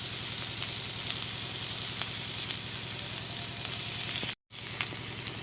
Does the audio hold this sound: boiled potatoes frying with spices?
yes